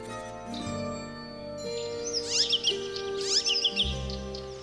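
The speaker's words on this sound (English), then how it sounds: "An icterine warbler chirps in the branches" Icterine warbler chirping among birch branches in a Russian Arctic forest, quick high twittering phrases over a steady background hum.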